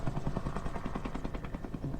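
A spotter aircraft for a firefighting airplane flies over, its loud, rhythmic thumping drone pulsing steadily throughout.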